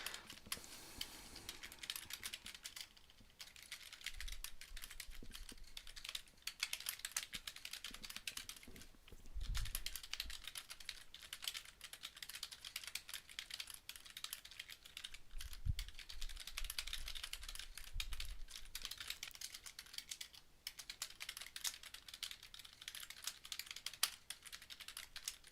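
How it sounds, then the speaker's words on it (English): Fingers typing on a computer keyboard, a quiet, continuous patter of rapid, irregular key clicks with a few heavier thumps and brief pauses. "Sorry for all the typing noises"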